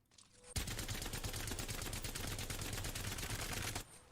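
A fully automatic weapon in Apex Legends fires one sustained burst of about three seconds at a wall. The rapid, evenly spaced shots are loud and close, then the firing cuts off abruptly.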